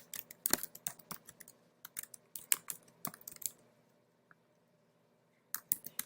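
Typing on a computer keyboard: quick bursts of crisp, close key clicks in irregular clusters, a pause of over a second, then a few more taps.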